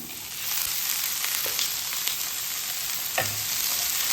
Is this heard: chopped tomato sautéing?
yes